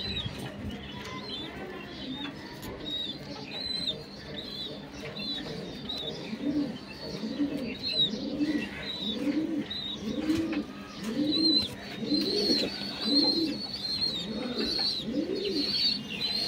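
Pigeons coo in a loft, repeated throaty rolling calls in a steady rhythm, close and fairly loud, with occasional chirps and a faint rustle of movement throughout.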